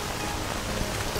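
Rain falling in a modded STALKER video game, a dense, even hiss of steady rainfall that fills the whole moment without a break and without voices.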